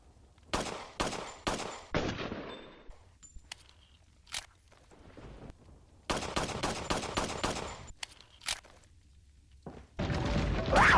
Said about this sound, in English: the Blacktail. A 9mm handgun with superior handling